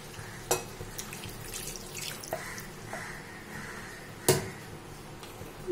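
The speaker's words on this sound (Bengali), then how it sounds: "বেটে রাখা মশলা ধোয়া জলটা আমি এর মধ্যে দিয়ে দেবো।" Water used to rinse ground spices is poured into a pan of cooking potatoes, a soft splashing trickle with a few sharp drips and clinks, quiet and close.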